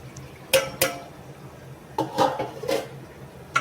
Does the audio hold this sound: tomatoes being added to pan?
yes